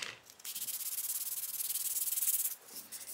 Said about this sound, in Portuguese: Pega uma lixa aí de 500, 600, só para você tirar essas rebarbinhas que às vezes ficam.